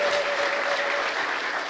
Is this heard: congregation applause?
yes